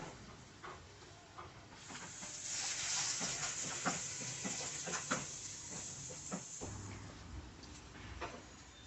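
Green chili slices and turmeric frying in a pan for capsicum chicken curry give off a steady hissing sizzle with scattered crackles and pops, moderately close and without talk.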